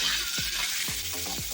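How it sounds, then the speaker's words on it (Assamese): Fish frying in oil in a pan, a dense, steady sizzle and crackle with a few soft scraping stirs of a spatula at regular intervals, close and loud with no voices. "মাছ ভাজি হৈ গৈছে"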